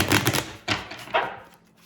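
A deck of cards being shuffled up close, heard as three brisk papery riffle bursts, the first longest, each fading quickly into quiet.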